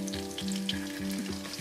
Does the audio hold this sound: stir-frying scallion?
yes